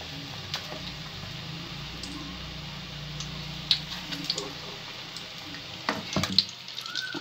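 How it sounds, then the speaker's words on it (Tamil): Raw banana (valakkai) bhajji deep-frying in hot oil, giving a low continuous bubbling sizzle with scattered ticks and pops, louder crackling bursts arriving toward the end. "வாழைக்காய் பச்சி நல்லா வெந்துக்கிட்டு இருக்குங்க"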